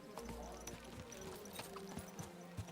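Horse hooves clip-clopping in the Kingdom Come: Deliverance 2 video game, a quiet, uneven string of soft hoof strikes under a low background hum, with speech passing over it.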